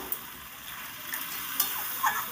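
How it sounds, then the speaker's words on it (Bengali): Soft sizzling in a frying pan with a few scraping stirs and light clinks as fried lentil dumplings and vegetables for spinach curry are turned over. "ভালো করে একটু এবার নেড়ে চেড়ে দেবো"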